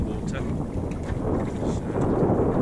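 Steady breeze and water noise while sailing a Welsford Navigator dinghy at a couple of knots toward a harbour breakwater, a continuous rushing wash with wind buffeting the microphone.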